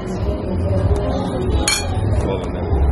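Glasses clink once in a toast at a restaurant meal in Montego Bay, Jamaica, a bright ring over busy dining chatter and background murmur.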